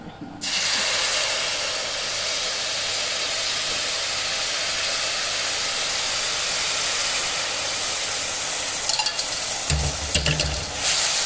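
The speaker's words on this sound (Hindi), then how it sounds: "अब इसमें डालेंगे जो गुड़ की चाश बनाई थी, ये शामिल कर देंगे" Jaggery syrup hits a pan of hot chiraat halwa with a sudden, loud steaming hiss that roars continuously, then gives way to scraping and stirring sounds near the end.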